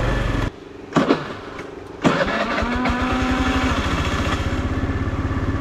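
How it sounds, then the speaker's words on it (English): A small 50cc scooter engine sputters and starts, then settles into a steady, buzzing putter close by, with a faint rising whine, on Magnetic Island, Australia. "This is a 50, that's right, 50cc scooter."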